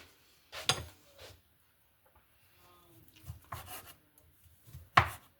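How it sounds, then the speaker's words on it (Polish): A knife slices through bacon on a board, giving a few scattered scraping cuts with thuds as the blade meets the wood, fairly close with quiet gaps between strokes. "Jeszcze kroimy sobie boczek."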